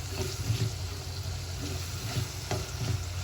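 Tomatoes sizzling and frying in a pan for tomato rasam, with steady close crackle and occasional stirring scrapes throughout, no talking.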